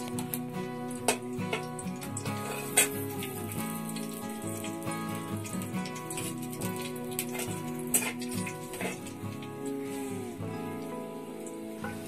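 Cumin and mustard seeds crackle in hot oil in a pan while a vada pav potato filling is prepared. The fine, rain-like popping and sizzling is steady and moderately quiet, with occasional sharper pops and no speech.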